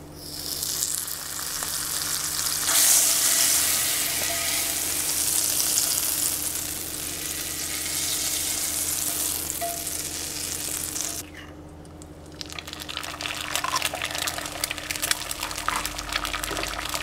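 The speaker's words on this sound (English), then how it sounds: "let's go ahead and cook some of those eggs up in this cast iron skillet" Eggs fry in butter in a cast iron skillet outdoors, with a loud, continuous crackling sizzle that holds steady, briefly drops away, and then picks up again.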